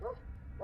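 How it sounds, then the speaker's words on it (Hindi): Dogs bark somewhere far off in the silent night near a village, two faint, short yelps over a low rumbling background. "दूर कहीं कुत्तों के भौंकने की आवाज आ रही थी।"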